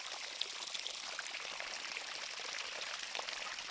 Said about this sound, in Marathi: आम्ही असं गव्हाला पाणी देतो असं इकडे बघा ठिबकद्वारे पाणी देतो